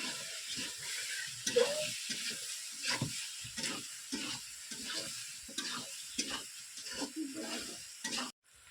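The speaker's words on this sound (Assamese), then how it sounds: "এতিয়া মই মাংসটো লৰাই দিম।" Chicken meat with chicken masala stirred in a cooking pot: repeated rhythmic scraping strokes over a constant close sizzle, then an abrupt stop just before the end.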